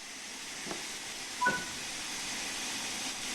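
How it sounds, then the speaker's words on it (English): Steam hisses from the open cylinder cocks of a steam locomotive in Train Sim World 5, a soft continuous hiss with two faint short puffs, the second slightly louder, and a brief tonal beep. "you'll want to open the cylinder cocks or remove any water"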